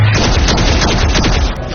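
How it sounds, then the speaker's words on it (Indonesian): A sci-fi film battle with reinforcements arriving under alien attack fills with dense rapid gunfire. The bursts are loud and continuous, with heavy low booms under them, and there is no clear talking. "Bala bantuan segera datang sambil menembak, jadi Kelly mengaktifkan perisai"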